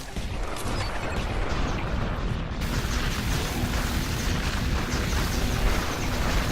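A Tesla cannon turret in the sci-fi tower defense game Sanctum fires in a loud, sustained stream of crackling electric bursts and booms that stays dense and steady throughout.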